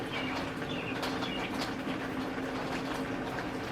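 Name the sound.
birds chirping outside with rain in the drain pipe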